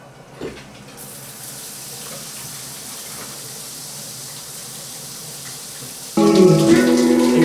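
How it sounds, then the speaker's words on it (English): Shower water runs in a steady, loud hiss that starts abruptly after a quiet moment and continues evenly, with a sudden brighter, louder spray near the end. "So, jump in the shower."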